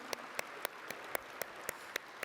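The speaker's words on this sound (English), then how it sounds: "I wondered if I could get one more round of applause for all of our sponsors and exhibitors who've been here to support us this year." Sparse, regular claps at a 2017 EMS conference, a faint steady beat of single sharp hits roughly every quarter second over a quiet room tone, sounding more like one or a few people than a full crowd.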